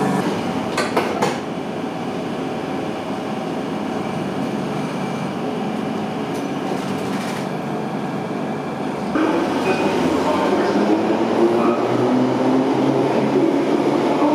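Steady rumble and clatter inside a moving train carriage from London's Charing Cross, with occasional rattles and a louder, rougher rolling sound in the last few seconds.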